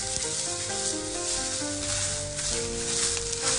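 Long green onions stir-frying in sesame oil give a steady, close, bright sizzle with soft stirring, while light background music plays underneath.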